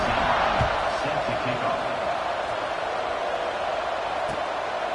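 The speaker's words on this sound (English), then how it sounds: "this crowd is buzzing after that last score" A football stadium crowd buzzes steadily after a score, a dense, continuous roar of many voices filling the space with no single sound standing out.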